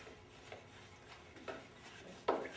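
Thick material stirred in a container during a 1968 Firebird restoration, a few faint scraping knocks and one sharper clink near the end in a quiet space.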